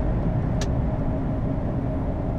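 A car drives along a road, heard from inside as a steady low rumble of engine and road noise with a brief faint click near the start.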